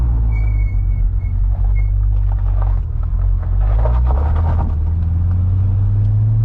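A deep C6 Corvette Z06 engine rumbles loudly up close, with quick automatic throttle blips rising briefly in pitch between shifts.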